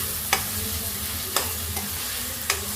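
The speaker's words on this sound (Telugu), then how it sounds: "సరే బాగా కలిపేసుకోండి." An egg and potato masala gravy with tomatoes sizzles steadily in a pan while a utensil scrapes through it, three distinct stirring knocks spaced about a second apart over the constant frying hiss.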